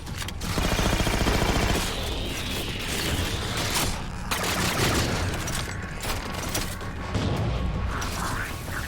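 Suppressed gunfire in a shooter video game comes as repeated muffled bursts of shots with mechanical clatter, loud and close, set against a dense game soundscape.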